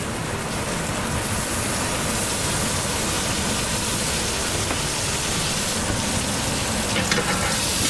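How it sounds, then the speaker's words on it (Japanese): Butter and beef fillet steak sizzle in a pan, a dense, continuous frying hiss that stays loud and even for the whole stretch, heard up close. "バターの香りをお肉につけていきます。"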